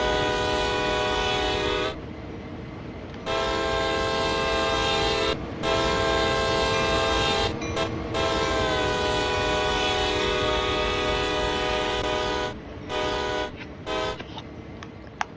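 Locomotive horn in Train Sim World 2, long loud tonal blasts repeated several times with short gaps, over a low rumble of the engine, no speech.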